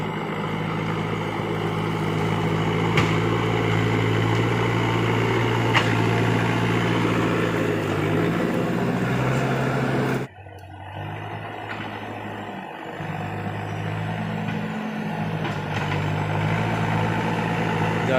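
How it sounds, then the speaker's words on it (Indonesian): A Case tractor, a piece of heavy equipment repairing a washed-out road on a slope, runs with a steady, loud diesel engine drone. Its tone shifts partway through and then continues, heard close and alone. "alat berat traktor"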